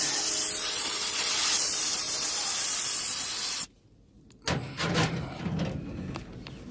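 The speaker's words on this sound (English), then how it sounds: "And we will keep spraying it and wiping it down" Spray cleaner hisses in a steady, loud, close blast onto a wheel hub for several seconds, then stops abruptly, followed by rubbing and handling noises of wiping the part down.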